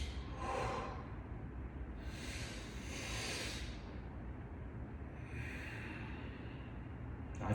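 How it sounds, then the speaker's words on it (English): Slow, deep meditation breathing, three airy breaths drawn in and let out at an unhurried pace, soft and close against a faint steady background hum with no talking. "just breathe in"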